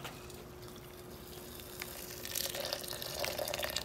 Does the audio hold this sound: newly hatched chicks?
no